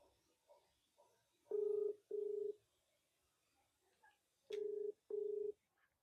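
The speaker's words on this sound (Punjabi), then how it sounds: "ਮੰਮੀ ਨੂੰ ਫੋਨ ਲਾ ਕੇ ਵੇਹਨੀ ਆ" Four steady electronic dialing tones in two pairs, loud and close, with quiet gaps and faint small sounds between them.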